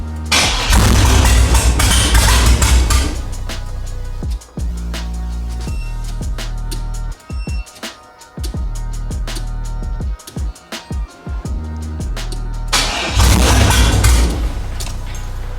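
An LS-swapped G-body car's engine cranks and catches with a loud, deep rumble, then cuts out abruptly. A sparser stretch of clunks and mechanical knocks follows before the engine roars up again near the end.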